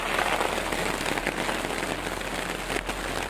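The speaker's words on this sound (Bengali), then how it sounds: "বাইরে এরকম বৃষ্টি।" Heavy rain pours steadily outdoors during a rainy day by a canal, a dense continuous hiss of drops drumming on surfaces, loud and close throughout with no voices.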